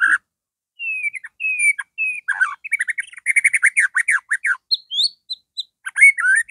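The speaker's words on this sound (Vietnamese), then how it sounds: "Các bạn nhìn con chòe lửa hót này" A caged white-rumped shama sings loud, clear whistles and rapid chirping trills, phrased in short bursts with brief pauses between them, alone and close.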